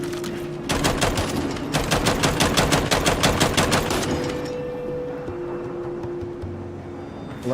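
Automatic gunfire from a new weapon in the video game Gears of War 5, rapid loud bursts repeating in a steady rattling rhythm for about three seconds, then fading into lower engine-like hum.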